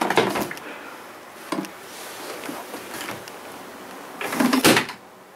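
Indoors, a wooden door slams with a sharp bang at the start, followed by softer knocks and rattles and a second loud clattering thud near the end, close and alone with no talking.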